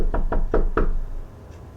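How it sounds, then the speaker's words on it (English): Four quick knocks rap on a bedroom window in an animated horror story, loud and close in a steady rhythm, followed by a faint fifth tap and then quiet. "knock at the bedroom window"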